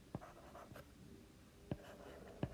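During a digital electronics lesson on hexadecimal numbers, a pen or chalk strikes a board in three distinct sharp knocks with scratchy strokes between them, fairly quiet in a calm room with no speech.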